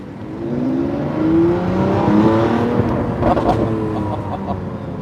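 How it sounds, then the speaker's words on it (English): A Lamborghini Aventador LP780-4 Ultimae's V12 engine revs and pulls hard, a loud, steady roar rising in pitch with layered harmonics, heard up close throughout with no talking. "this is worth it when you do hear the V12 come on"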